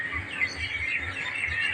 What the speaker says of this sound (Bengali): পাখি ডাকছে